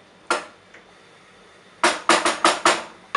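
A pot of mushroom pulao is covered with its lid, giving one metallic clink followed by a quick run of five sharp clanks close by.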